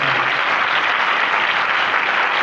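A church congregation claps loudly in praise of Jesus, a thick, continuous roar of many hands, evenly sustained at close range with no pause.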